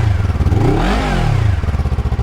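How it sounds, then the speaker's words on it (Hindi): A KOVE 250cc dual-cylinder motorcycle engine is revved up from idle, its loud, close exhaust note rising to a peak and falling back to a throbbing idle. "और एक्सीलरेटर दें आप इसको।"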